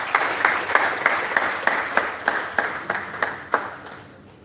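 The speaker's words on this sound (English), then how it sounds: "Please, a round of applause for her." A small group claps in a steady, roughly even rhythm at a facility management conference, fairly close and loud, with faint murmuring beneath before the clapping tapers off.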